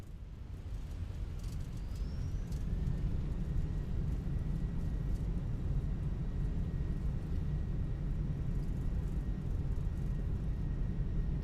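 An Airbus A319 in MSFS 2024 on landing rollout with thrust reversers deployed: a steady, broad, low-heavy engine roar with a faint whine on top, sustained at moderate level throughout.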